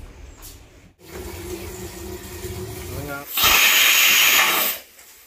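A pressure cooker holding country chicken vents a loud, sustained burst of hissing steam for about a second after a stretch of rumbling, bubbling cooking noise.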